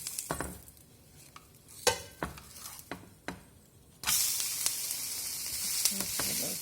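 A dosa topped with onion fries on a hot pan, giving a few scrapes and taps at first before a loud, continuous sizzle takes over for the rest of the clip.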